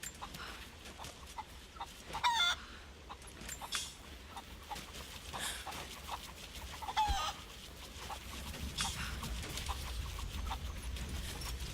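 Chickens cluck and squawk in the video game Rise of the Tomb Raider, with scattered calls and a couple of louder flurries over a low ambient bed at moderate distance.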